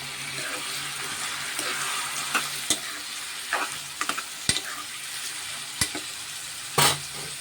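Drumstick pieces sizzle in a pot of mango curry, a steady bright fry broken by several sharp knocks and scrapes of a spoon stirring against the pan, close by, with no talking.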